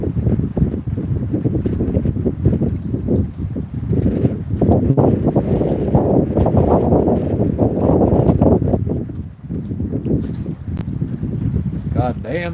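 Strong wind gusting over a boat at anchor, roaring and buffeting the microphone in a continuous heavy rush that dips briefly near the end.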